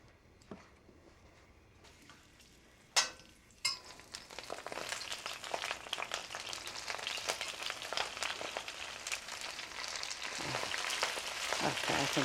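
Roughly cut mortadella pieces sizzling and frying in a hot pan, a steady crackling hiss that builds and grows louder after a couple of brief knocks near the start.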